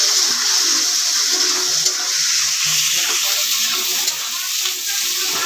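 Black cumin, slit green chillies and chopped onion frying in hot oil for a Bengali fish chorchori. A steady, bright, hissing sizzle fills the pan, close and even, with no one talking.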